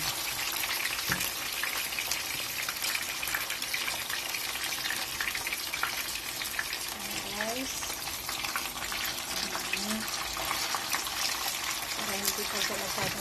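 Bisugo fish deep-frying in a hot pan of oil beside ginger, a steady broad sizzle that runs throughout, with faint voices in the background.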